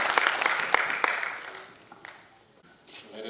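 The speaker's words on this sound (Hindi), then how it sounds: "सर के लिए एक बार जोरदार तालियां।" An audience applauds at an award ceremony and festival inauguration in Patna, Bihar, a scattered burst of clapping that thins out and fades within a few seconds.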